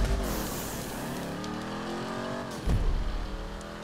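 Dominator muscle car engine racing in GTA 5, a loud, close, throaty roar sustained through a turn before a sharp gear change and renewed acceleration, with no talking over it.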